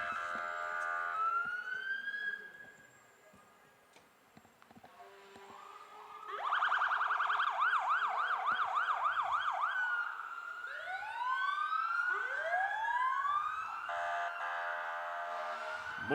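Wailing fire engine siren from a volunteer fire department's engine passing in a downtown Christmas parade, rising and falling sweeps with a fast yelp section, moderately loud and somewhat distant, no talk over it.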